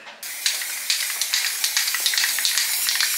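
An aerosol can sprays in a rapid series of short hissing bursts, close and fairly loud, with no voices.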